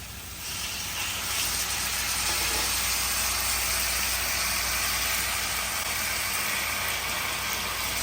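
A loud, steady hiss of steam and sizzling rises sharply as water is added to a hot skillet of potatoes and onions, then continues evenly.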